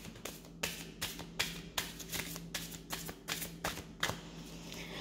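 A deck of cards being shuffled, the riffles coming as a run of sharp, crisp bursts of fluttering card edges at a steady rhythm, close and fairly quiet, with no voices.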